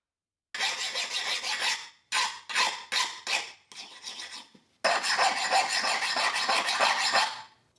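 A chainsaw file rasps across a hardened, quenched forged hunting knife blade: one long stroke, a run of short quick strokes, then another long sustained scrape, close and crisp.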